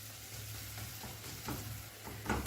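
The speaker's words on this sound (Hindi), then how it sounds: "थोड़ा सा टमाटर को मिक्स कर रही हूँ मैं" Tomatoes are stirred in a pot of simmering mutton khichda, a soft steady sizzle with occasional scraping spoon strokes, quiet and close, with a low hum running beneath.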